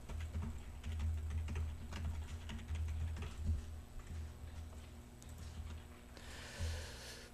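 Computer keyboard typing while writing jQuery script code, a steady patter of close key clicks running throughout, dense and continuous with no voices.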